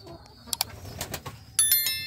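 Pigeons in a country pigeon house coo softly with a few sharper bird calls and clicks, close by, ending in a brief louder burst of chirping.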